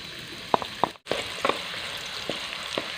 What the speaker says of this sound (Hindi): सबसे पहले हम इसमें ये गाजर को थोड़ा फ्राई करेंगे क्योंकि गाजर थोड़ा सा सख्त होता है